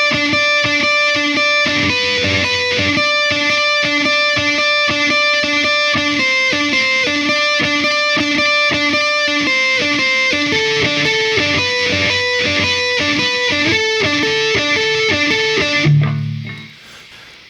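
A distorted electric guitar plays a lower harmony part, a steady run of sustained, shifting notes that stays loud and alone, then cuts off abruptly near the end.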